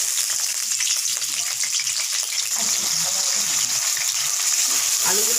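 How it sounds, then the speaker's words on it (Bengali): Potatoes fry in hot oil, giving a steady, close sizzle that holds throughout, with occasional stirring sounds mixed in. "এখন আমি আলুগুলো ভেজে নেব।"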